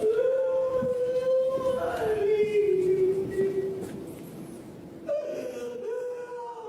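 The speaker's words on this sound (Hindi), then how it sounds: "रात गए औरत के रोने की आवाज़" A woman's wailing cry at night in a deserted Mexican market lane, a long sustained moaning voice that rises and falls, breaking off near the end and then resuming, fairly loud against a quiet, empty background.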